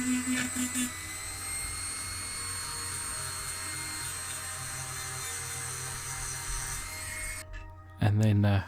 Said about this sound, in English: I've got an official Dremel bit